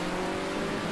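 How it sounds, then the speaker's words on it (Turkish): Racing car engine roaring steadily with tire noise in the top-down racing game Circuit Superstars, a continuous loud whine and rumble with no clear impact or tumble standing out. "Ulan araba takla attı"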